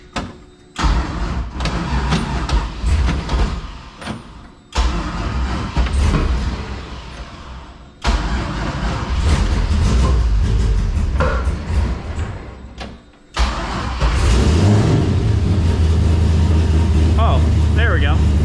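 An old car engine cranks in several short bursts separated by pauses, then catches and runs with a loud, steady idle and rising revs, close by, with occasional talk alongside.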